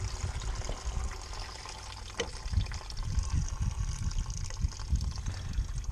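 Rusty coolant water drains from a project car, a continuous close trickle and splash that swells and fades unevenly, with a few small knocks along the way.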